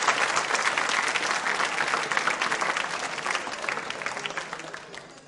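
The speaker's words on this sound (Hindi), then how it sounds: "तालियां जोरों से बजाइए आप सभी के लिए" An audience at a school quiz show gives sustained, dense applause that stays steady for about five seconds and fades slightly toward the end.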